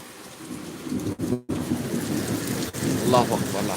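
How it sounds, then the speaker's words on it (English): Steady rain pours down with rolling thunder rumbling through, broadband and continuous, with a brief dropout partway and a faint voice under the storm. "You hear the rain?"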